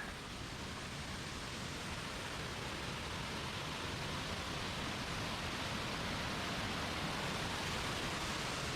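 Steady, dense roar of a waterfall swollen after a day of heavy rain, loud and continuous throughout with no breaks, heard from close beside it.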